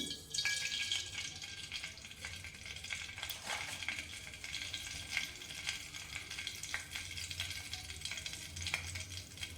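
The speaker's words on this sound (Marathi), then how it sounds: "आता तेल तापलंय, त्यामध्ये मी मोहरी घालून घेते आधी." Mustard seeds crackling in hot oil for a dal khichdi tempering, a faint continuous fry hiss dotted with quick sharp pops and ticks, no talking.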